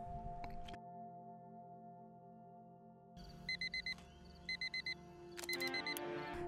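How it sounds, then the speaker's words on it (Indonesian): An electronic alarm beeps in short repeated bursts, groups of quick tones over a low hum, growing busier toward the end. "Suara alarm kemudian berbunyi, tim harus segera bangun."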